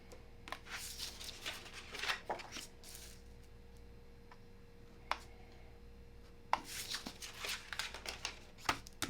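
Scissors snipping off cut pieces of material for a rifle cheek riser, a series of quiet irregular crisp snips and rustles up close, in bursts separated by pauses.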